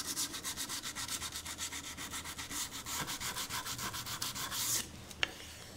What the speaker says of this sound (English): Sand on top, get my 220, sand on top.